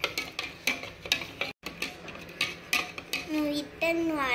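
Powder being mixed into water in a bowl for a sweet, with rhythmic clinks and scraping strokes of a spoon against the bowl, ending with a voice talking.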